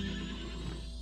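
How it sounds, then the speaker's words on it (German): A horse in the Princess Peach Showtime video game gives a loud, close neigh that fills the whole moment on its own, with no talking over it. "Armes Pferdchen"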